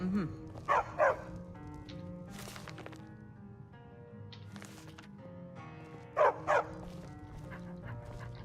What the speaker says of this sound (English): Okay, dog, you wanna move?